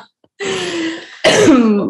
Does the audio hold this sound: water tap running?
no